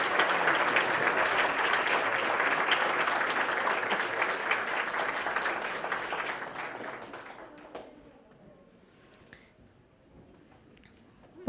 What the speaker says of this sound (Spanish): Cerramos el evento con fuertes aplausos y despedimos a la mesa de honor.